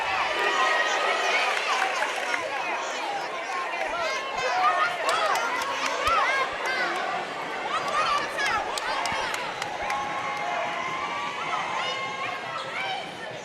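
A crowd roars and cheers at a high school regional quarterfinal basketball game between Sulphur Springs and Dallas Pinkston after a basket and foul. The sustained, dense cheering and chatter runs throughout, with a commentator talking over it.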